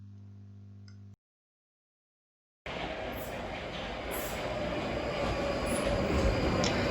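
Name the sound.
London Underground train approaching station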